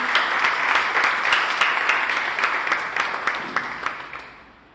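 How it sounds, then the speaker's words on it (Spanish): A church congregation bursts into applause during a sermon, a full room of clapping that stays lively before fading away at the end. "Voy a darle un aplauso al Padre Eterno"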